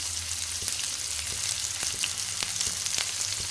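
Shallots and sliced garlic sauté in hot oil in a pan, a continuous close sizzle with scattered crackles and pops.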